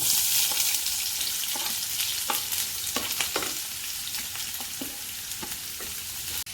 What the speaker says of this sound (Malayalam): നമുക്ക് സവാള അരിഞ്ഞത് ഇതിൻ്റെ അകത്ത് ഇട്ട് കൊടുക്കാം